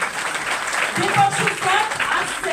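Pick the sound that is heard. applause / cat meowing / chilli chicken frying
applause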